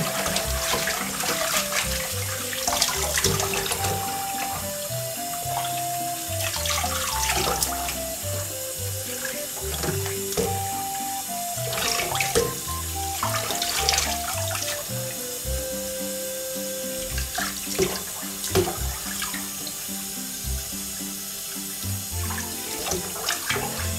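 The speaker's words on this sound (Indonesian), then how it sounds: "cuma cuci pakai air aja karena bisa langsung dimakan" Tap water runs steadily while freshly harvested rucola is rinsed. The continuous splashing flow stays at an even level throughout, with a musical background underneath.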